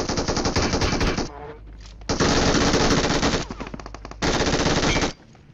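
M4 rifle firing in a shooting video game, loud sustained automatic bursts in three long strings separated by brief quieter gaps.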